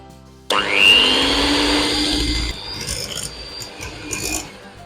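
A mixer starts abruptly with a loud whirring drone, its pitch easing as it churns eggs into a thick cheese dough for flourless bread, with scraping and rattling throughout.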